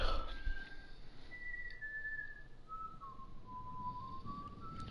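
Someone whistling a slow, wandering tune in the Telltale Game of Thrones game, faint and sustained over a soft ambient background, with long gliding notes.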